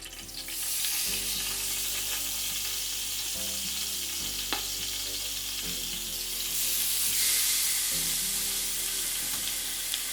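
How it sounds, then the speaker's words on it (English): New York strip steak hits hot olive oil in an Instant Pot, producing a loud, continuous sizzle and hiss that holds throughout, with a few faint clicks and hums from the cooker and no voices. "Now we're gonna add the New York strip steak."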